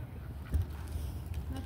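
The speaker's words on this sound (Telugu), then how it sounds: "చూసారా బాతులు." Ducks in a park giving a few soft quacks and honks over a low, breezy ambient rumble, fairly faint and brief, with no voices.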